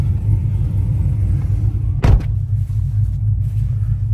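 A cammed Chevrolet Camaro SS 1LE running on E85 idles with a deep, lumpy rumble, close and steady, with a single thud partway through like a door shutting.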